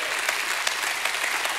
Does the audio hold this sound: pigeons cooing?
no